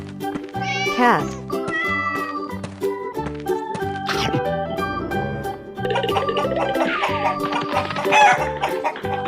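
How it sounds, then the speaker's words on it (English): Cartoon cat meows several times over loud music, with clucking fowl-like calls and a voice in the mix. "Cat."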